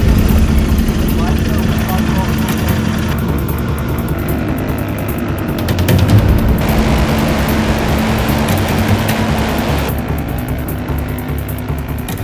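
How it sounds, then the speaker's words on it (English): Engines of 650cc GT Cup race cars roar continuously at close range, a loud droning buzz that swells and shifts as the cars pass, with talking heard over it. "650 cc's, the roar of the engines get unshakable."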